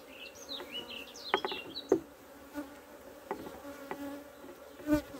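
Honeybee colony humming in an opened hive during an inspection a week after a split, with individual bees buzzing close past in short rising and falling passes over a quiet steady drone.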